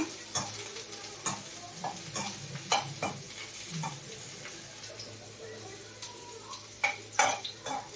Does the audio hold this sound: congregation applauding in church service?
no